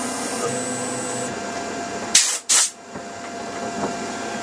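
A CNC machine drilling through-holes in a circuit board: a steady motorized whir is interrupted by two sharp, loud bursts of high-pitched drilling or hissing, then the machine hum carries on.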